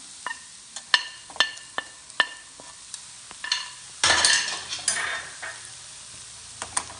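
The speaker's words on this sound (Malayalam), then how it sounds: "ഇത് നന്നായിട്ടൊന്ന് മിക്സ് ചെയ്യാം." A spoon scrapes and clinks against a pan while browned onions with ginger-garlic paste are stirred for Kerala beef masala fry, sharp utensil taps over a soft sizzle that swells into louder frying midway.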